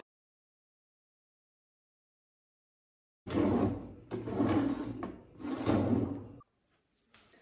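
A metallic drawer pull is fastened onto a handmade wooden cart, giving three close bursts of scraping, rattling handling and tool noise in a quiet room, then a faint tap.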